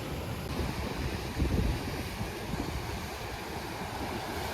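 Calm ocean waves wash against a rocky shore at Acadia National Park, a steady broadband rush with one slightly fuller surge partway through, mixed with wind noise and no voices.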